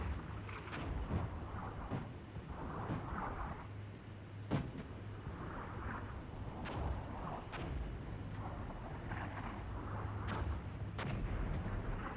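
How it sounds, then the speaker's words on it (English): Gunfire and explosions from the war game Armored Brigade II, with scattered distant booms and sharp cracks of vehicles firing on infantry over a low rumbling battlefield background, moderately faint throughout. "our vehicles are still opening fire on their infantry units"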